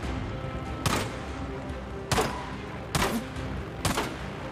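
Gunfire in Days Gone comes as four sharp, loud shots spaced about a second apart, each a sudden broadband crack with a short tail, over a low background rumble.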